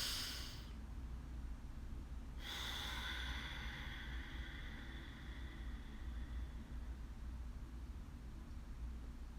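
Slow, deep breathing drawn in and let out at close range, a long airy inhalation swelling after a brief pause and easing off over a steady low background hum, with no talking.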